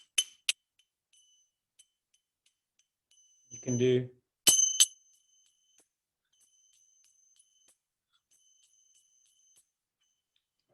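Open, ringing strikes of kartals, the hand cymbals of a kartal workshop, come as a few bright metallic clashes at the start and a louder cluster a little later, their tones fading slowly. A short stretch of speech sits between the strikes.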